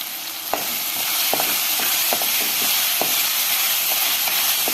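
Chopped tomatoes with salt sautéed in a pan for chicken chops, a continuous loud sizzle broken by sharp scraping clicks of a spoon against the pan, no talking.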